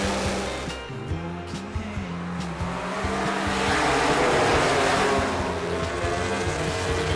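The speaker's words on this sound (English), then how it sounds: "It's lights out, and we are racing in MotoGP here in Japan." MotoGP motorcycles racing off the start at the Japanese Grand Prix: loud, dense engine roar with layered revving tones from many bikes, swelling in volume midway and sustained throughout.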